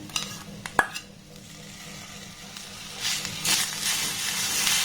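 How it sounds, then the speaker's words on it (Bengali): Cane jaggery being stirred in a pan over a low gas flame, soft scraping and gentle sizzling with a few sharp clinks of the utensil against the pan near the start, steady and close. "গ্যাসের ফ্লেমটাকে একদম লো রেখে এবার এটাকে একটু ভালোভাবে নাড়াতাড়া করে নেব"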